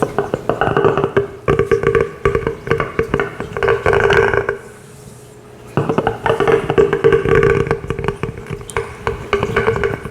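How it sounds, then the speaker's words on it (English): A solid collectible object is rubbed directly against a microphone, giving close, loud scraping and friction noise in bursts with a brief quieter pause midway. "Let me try and rub it on the mic."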